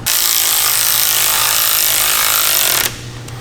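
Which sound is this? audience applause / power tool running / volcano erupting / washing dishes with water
power tool running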